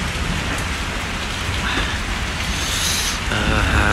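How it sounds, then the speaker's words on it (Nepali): Heavy morning rain pours steadily outside, a dense, continuous hiss of drops drumming on surfaces, fairly loud and unbroken throughout. "र पानी बाहिर मजाले पर्दैछ हो"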